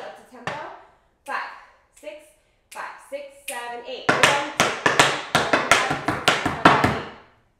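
Rapid tap shoe strikes and flaps on a hard floor from an intermediate Puttin' on the Ritz tap routine, starting as a few spaced steps and building into a dense, steady run of loud, sharp clicks.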